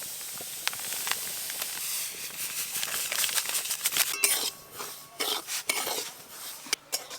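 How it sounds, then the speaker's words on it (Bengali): Dry semolina roasting in a kadai, heard as a hissing rustle broken by uneven scrapes and clinks of a spoon against the pan, with no talking. "প্রথমে আমি সুজি শুকনো কড়ায় একটু ভালো করে ভেজে নেব"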